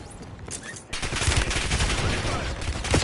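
Rapid bursts of automatic gunfire in a Call of Duty match, dense and loud, swelling into a sustained fusillade after a quieter opening second.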